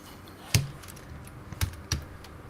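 A few sharp, isolated clicks of keys on a computer keyboard, irregularly spaced, close by in a quiet room.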